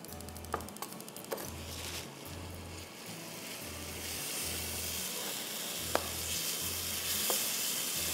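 Shahi chicken qorma masala with yogurt, red onion and whole garam masala fries in a pan, giving a steady, broad sizzle that grows slightly louder, with a few sharp clicks and a low hum pulsing underneath.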